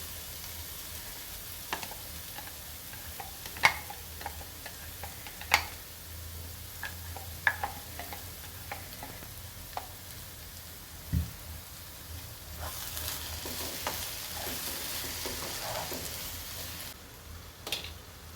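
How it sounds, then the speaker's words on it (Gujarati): Tomato gravy goes into a pan of sautéed onions for palak paneer, giving a steady low sizzle broken by irregular clicks and stirring knocks, with the frying hiss swelling louder toward the end. "ડુંગળી અહીંયા આપણે સતરાઈને તૈયાર થઈ ગઈ છે તો ટામેટાની જે ગ્રેવી બનાવી હતી એ અંદર નાખીશું"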